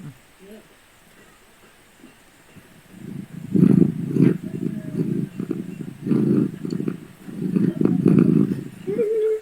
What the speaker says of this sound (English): You want to hear cat purring?